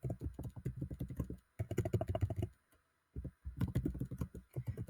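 Typing on a computer keyboard in rapid bursts of close key clicks, pausing for about half a second between runs, with no talking.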